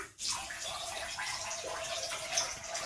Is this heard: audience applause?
no